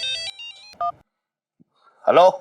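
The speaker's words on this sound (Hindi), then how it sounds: "अरे ये तो पंचम की माँ का फोन है, अगर ना उठाया तो परेशान हो जाऊंगी।" A mobile phone ringtone for an incoming call plays as a short bright electronic melody, loud and close, followed after a brief silence by a voice.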